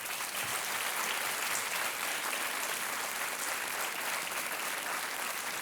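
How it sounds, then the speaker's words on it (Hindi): Dense, steady applause from a large studio audience at a TV quiz show fills the whole stretch at an even level, with no talk over it. "तालियां बज जाए एक बार"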